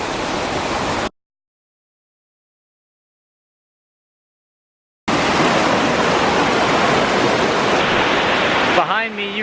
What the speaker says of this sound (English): Behind me you can see the falls that would have powered the furnace and what makes it named Fall Brook.